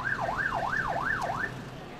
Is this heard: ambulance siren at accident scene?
yes